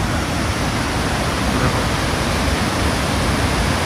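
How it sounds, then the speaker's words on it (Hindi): Raneh waterfall in Khajuraho roaring steadily among large rocks, a loud, continuous broadband rush of falling water close by with no pauses or voices. "पानी की आवाज ही इतनी तेज आ रही है यार"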